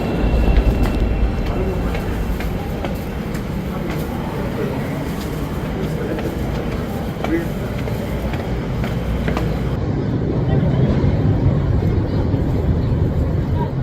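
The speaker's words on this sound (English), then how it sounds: "I'm gonna get on a Chicago CTA train." A Chicago CTA train at the platform rumbles steadily in a broad, continuous roar with faint metallic squeals and clatter, loud and close throughout, and a voice speaks briefly over it.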